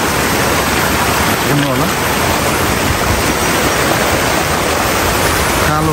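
A swollen, flooding river rushes below a bridge in steady rain: a dense, constant roar of water throughout, with someone speaking briefly over it.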